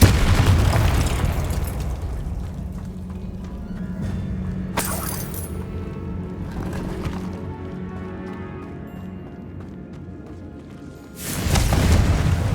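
A Confringo fire spell blasting in the game Hogwarts Legacy: a loud explosive burst opens, a quieter game ambience follows, and a second heavy boom erupts near the end.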